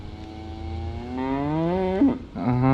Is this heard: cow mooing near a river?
yes